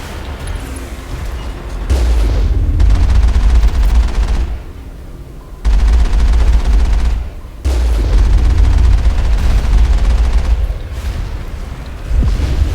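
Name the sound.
Mako tank gun firing, from video game Mass Effect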